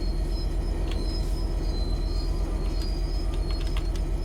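Train Sim World 3 training centre: a train rumbles and clatters in a steady, dense stream, with high metallic wheel or brake squeals flaring on and off over it. No voices are heard.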